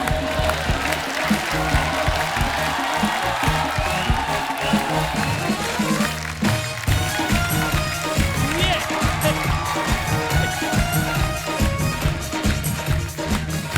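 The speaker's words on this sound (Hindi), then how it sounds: "आप सबकी जोरदार तालियों के बीच आओ शक्ति कपूर साहब।" A studio audience on a comedy show applauds Shakti Kapoor's entrance: dense, loud clapping that runs steadily for the whole stretch, mixed with crowd noise and voices.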